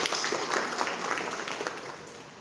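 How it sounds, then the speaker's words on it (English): A short burst of audience applause at a college career expo, moderately loud and fading slightly over a couple of seconds. "A big round of applause for the Director General"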